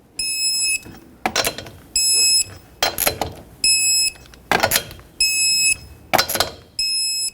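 An electronic torque wrench tightening the wheel lug nuts on a 2006-2010 Hyundai Sonata, giving five loud repeated alarm beeps at target torque, each about half a second, alternating with close clicks and metallic ratchet thuds between them.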